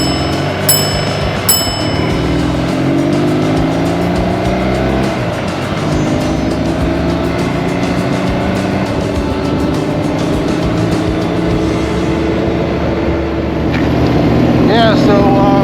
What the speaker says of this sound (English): I'm going to get another look at R9T, take that one for a ride